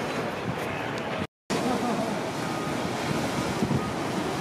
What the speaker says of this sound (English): it's just so relaxing to hear the ocean waves